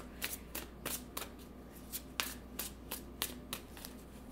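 A deck of cards is shuffled by hand, giving quick riffling bursts and soft slaps in an uneven rhythm, close and quiet with no speech.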